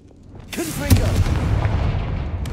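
Confringo blasting spell in the wizarding game Hogwarts Legacy, a loud booming explosion swelling after a quick whoosh, with a spoken word over the start and a rumbling tail.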